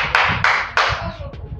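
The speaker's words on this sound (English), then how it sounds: "Clap for her." A class claps for a pupil in a schoolroom, a few sharp bursts of hand claps in quick succession, close and fairly loud, fading into scattered taps.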